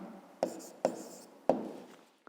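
A pen writes an answer by hand on paper for a maths exercise, three distinct close taps or strokes with faint scratching between them, no voice.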